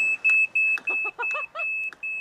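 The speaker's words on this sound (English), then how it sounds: "He's adapted a smoke detector to sound the alarm." A battery-free smoke detector run by a wave-powered generator sounds in a string of short, shrill beeps at uneven intervals, with a voice speaking over it.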